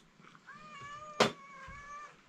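A single cat meows with a drawn-out, tonal call, followed by a brief sharp knock and soft rustling in a quiet rural home on a rainy morning.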